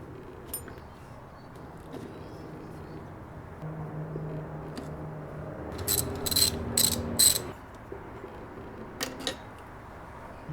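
A hand ratchet bolts a painted block-off plate onto a turbo blow-off valve port after RTV sealant goes on, giving faint scattered clicks and then a close, louder burst of quick ratcheting strokes near the middle, with brief clicks afterward.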